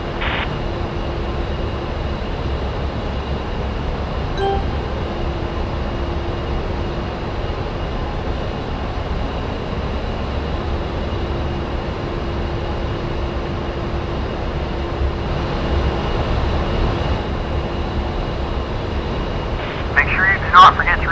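A-10C jet in the DCS flight simulator rolling for takeoff, its engines giving a steady, loud, continuous drone with a constant whine throughout, rising slightly toward the end with a few brief clicks.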